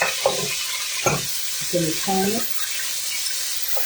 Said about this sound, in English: Let's check our meat. That's pretty good sear. I'm going to turn it.